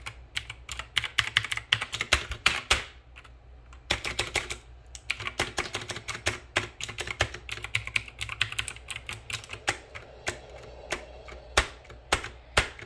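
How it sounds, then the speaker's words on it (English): Computer keyboard keys pressed rapidly and repeatedly to make a character jump in a game, a dense, close clatter of clicks in irregular bursts with a short pause partway through. "Press every key on the keyboard."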